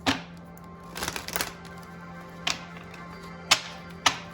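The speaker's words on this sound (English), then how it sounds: "I'm going to do one more shuffle" A deck of tarot cards is shuffled nearby: a quick burst of soft riffling clicks, then several sharp, separate taps and flicks as the cards are squared, over a faint steady background hum.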